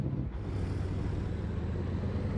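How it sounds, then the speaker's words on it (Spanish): Engine brake of a heavily loaded GMC Care Panela truck hauling 36 tonnes in American Truck Simulator, a steady low droning rumble that holds evenly throughout, moderately quiet with no talk. "El freno de moto de este carro suena muy chévere."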